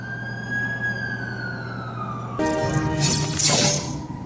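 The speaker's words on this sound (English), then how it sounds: "That's the ambulance I called." An ambulance siren in The Amazing Spider-Man 2 on a city street, starting as a steady wailing tone and then rising into a louder, harsher burst of siren and traffic noise as the vehicle arrives close by.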